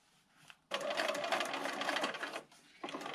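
A sewing machine runs a continuous stitching burst of about two seconds through paper-pieced fabric, moderately loud and close. A quieter short run of stitches follows after a brief pause.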